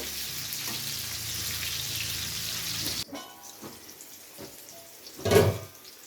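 Pointed gourds fry in oil in a pan over a low-to-medium gas flame, a steady close hiss for about three seconds that drops sharply as the pan is covered with a lid, followed by a brief clatter.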